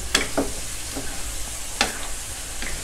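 Chicken frying with red curry paste in a hot pan, with a few sharp scraping stirs against steady sizzling and no talk.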